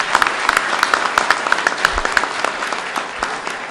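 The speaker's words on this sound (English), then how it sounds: "Let's give him a round of applause" An audience at a government flood recovery announcement applauds the mayor, dense steady clapping with several distinct nearby claps cutting through the crowd sound throughout.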